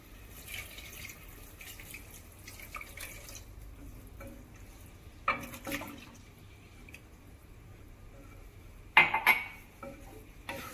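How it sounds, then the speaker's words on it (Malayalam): A cup of milk is poured into carrot halwa in a pan and stirred in. Soft dripping and pouring play quietly, broken by two sharp utensil clinks near the middle and toward the end. "ഇനി നമുക്ക് എടുത്ത് മാറ്റി വെച്ചിരിക്കുന്ന 1 കപ്പ് പാല് ഇതിലേക്ക് ചേർത്ത് കൊടുക്കാം."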